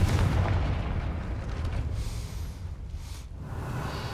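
A Confringo blasting spell explodes in the Hogwarts Legacy video game, a deep, heavy boom that rumbles on for several seconds and slowly fades.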